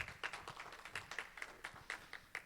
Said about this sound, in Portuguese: A Ana Lívia, palmas para a Ana Lívia também.